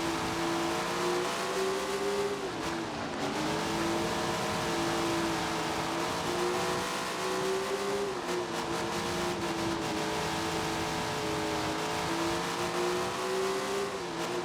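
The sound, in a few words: sprint car racing and braking, video game Tony Stewart's Sprint Car Racing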